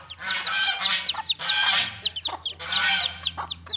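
Hens and chickens on a poultry farm keeping Silver Sebright and Golden Heavy Buff birds, clucking and squawking in repeated loud bursts close by over a steady low hum, with no talk.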